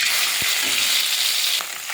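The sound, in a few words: fish frying in hot wok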